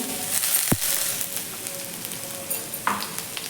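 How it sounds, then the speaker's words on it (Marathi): Grated coconut roasts in ghee in a pan with a soft, steady sizzle, broken by a couple of sharp scraping stirs; close and fairly quiet. "खोबरं आपण हे असं व्यवस्थित असं तुपावरती भाजून घ्यायचं आहे"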